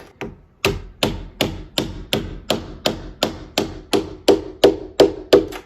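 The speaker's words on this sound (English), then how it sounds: "push it down so this piece is depressed all the way in, and hit it with a hammer" A hammer strikes a wood block on a door lever latch about a dozen times in a steady, even rhythm, each blow a sharp close knock with a short ringing decay.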